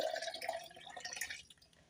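Water poured into a Vitamix blender jar while making a carrot smoothie, a short trickling, splashing pour that is quiet and close, with no voices.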